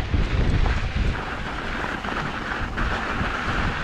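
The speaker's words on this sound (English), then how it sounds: "There's a little bit of a wind, but" Steady wind buffets the microphone on a ridge at a mountain bike park, a continuous rough rumble holding fairly loud through the whole stretch with no voices.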